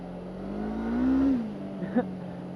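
A motorbike rides across the sand of Crescent Beach, its engine droning steadily and swelling into a brief rev midway before settling back, with a couple of short bumps near the end.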